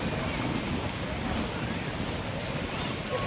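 Sea waves washing in at Nagaon beach make a continuous broad rush, heavily mixed with wind buffeting the microphone and faint voices nearby.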